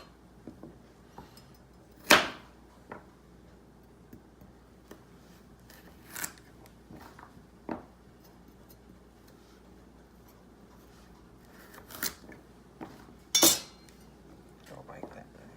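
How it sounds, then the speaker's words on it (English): A knife cuts carrots in half and then lengthwise on a board, giving scattered sharp chops and clicks with quiet gaps between them, close and fairly faint. "we're going to take the carrots and we're just going to cut those in half. And then half again lengthwise"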